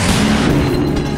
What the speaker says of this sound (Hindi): इसमें लगे एयर डिफेंस सिस्टम को चेक किया जा रहा है।